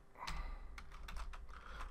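Rapid typing on a computer keyboard while entering a VBoxManage command, a quick run of close, sharp key clicks with short pauses between bursts.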